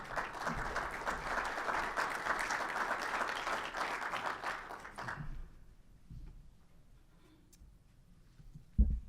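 Audience applause welcoming a speaker at an architecture conference session, a steady dense clapping of a moderate crowd for about five seconds that then fades out to a quiet room.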